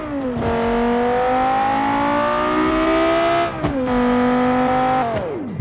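Engine of a car in the BeamNG video game revving hard at a drag race start, climbing steadily through gears with two shifts, loud and close with no talk.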